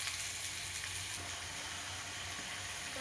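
A steady, moderately loud sizzle from a hot oiled pan as pumpkin, onion, tomato and garlic cook, an even hiss with no talk.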